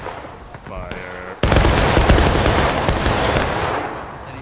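In the Civil War video game War of Rights, a musket volley cracks out all at once after a spoken command, then rolls into a long, loud, ragged burst of gunfire that slowly tails off.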